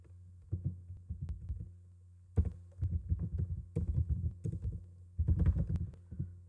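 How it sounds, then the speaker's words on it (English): Bursts of clicky computer keyboard typing, close and steady, separated by short pauses. "I am typing hyphen and some digits"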